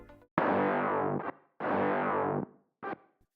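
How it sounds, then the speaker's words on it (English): A heavy 808 bass run through reverb that feeds distortion from two wave folders, heard as two long gritty sustained notes and a short third hit, loud and alone with clean gaps between. "The mids has some reverb that's been distorted with 2 wave folders."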